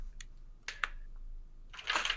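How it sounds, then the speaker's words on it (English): A few scattered clicks and taps from a computer keyboard during a tabletop gaming session, close and sparse, with a short burst of rapid keystrokes at the end. "My keyboard doesn't work."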